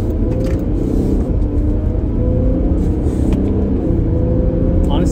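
A 2018 Jeep Grand Cherokee diesel with an Injen intake rumbles at close range, a steady low engine drone with slight revving swells, and a voice speaks briefly over it.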